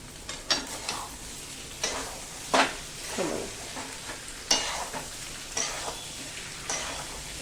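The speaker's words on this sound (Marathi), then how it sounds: "भाजी मस्त हलवून घ्यायची बघा" Spiced potato bhaji being stirred in a pan, quiet sizzling under a series of sharp scraping strokes, each spatula pass standing out clearly against the low frying hiss.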